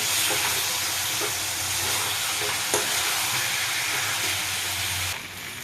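Mutton and potatoes sauté in spices in a pot, a continuous dense sizzle with scraping stirs, easing off near the end.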